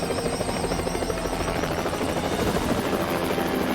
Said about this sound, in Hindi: तो गाइस एजेंट 47 अब हेलीकॉप्टर में बैठकर निकल चुका है अपने अगले मिशन के लिए।